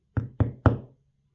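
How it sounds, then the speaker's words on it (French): Three firm knocks on a house door, evenly spaced and close, alone with no voices around them, each thud ringing briefly before the next. "Viens, on frappe à la porte de cette maison."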